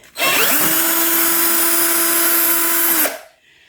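A power drill whirs steadily as it backs a screw out of wall panels during a hallway renovation, loud and close for about three seconds before stopping abruptly.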